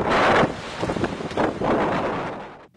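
Strong gusty storm wind on the Irish coast buffets the microphone in heavy roaring surges, with a rush of big surf and water beneath, loud and close.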